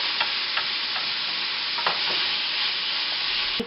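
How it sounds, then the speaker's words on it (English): Pork browning in a pot over gas for baked beans, a dense, loud, unbroken sizzle close up, with a few faint stirring scrapes and a soft knock near the end, no talking. "You're going to brown all the pork"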